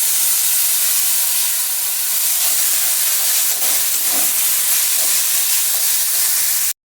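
Boiled mung dal tipped into a pan of fried coconut and turmeric, giving a loud, steady steamy hiss and sizzle that runs throughout with faint stirring textures and no voices.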